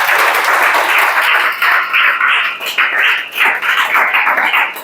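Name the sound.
class clapping hands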